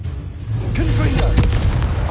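A Confringo blasting spell explodes in the Hogwarts Legacy video game, giving a loud, close, booming burst with a rumbling low tail, mixed with voices.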